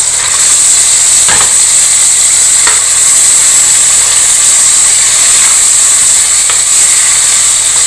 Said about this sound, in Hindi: अब हमने इसमें ये चिकन ऐड करना है।